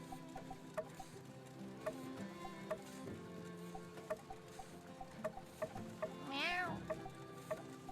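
A cat meows once, a rising and falling cry near the end, over soft regular ticking and faint background sounds during play of the video game My Time at Sandrock.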